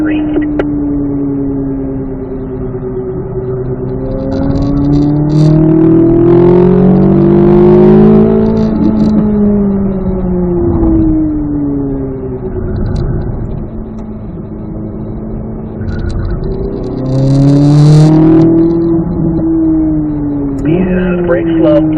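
A C8 Z06 Corvette engine on a race track at a driving school, its pitch sweeping down through downshifts under braking then climbing again on acceleration, loud and close throughout with an instructor talking over it.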